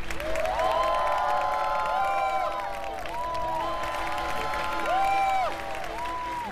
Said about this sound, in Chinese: 掌声送给下一组少年